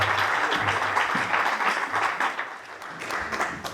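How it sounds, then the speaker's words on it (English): An audience applauds panelists at a Title IX event: continuous dense clapping from a crowd that rises, dips and carries on throughout, with no talk over it. "we're gonna move back over here and clap it up for our panelists"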